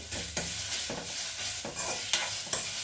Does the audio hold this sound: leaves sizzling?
yes